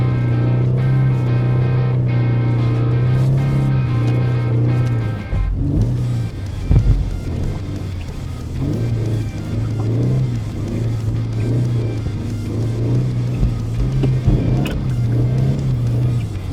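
A sports car engine drones loud and close as it accelerates in low gear through a blizzard. The pitch holds steady, then falls away briefly as the revs change and comes back with some rumbling under it.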